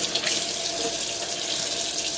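Running tap water rinsing raw chicken breast during kitchen meal prep: a steady, loud, continuous splashing stream pours into a sink without pause or talk.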